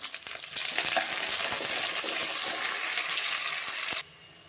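Onions with mint and coriander fry in a pan, a steady loud sizzle with scattered stirring clicks that starts after a brief quieter moment and cuts off sharply near the end.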